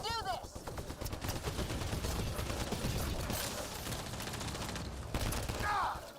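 Sustained gunfire in the sci-fi shooter Mass Effect: Andromeda, dense rapid shots and impacts layered with game effects through the whole stretch, with a voice talking over the battle.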